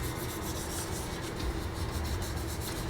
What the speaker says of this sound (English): going over every little surface with a very light touch of sandpaper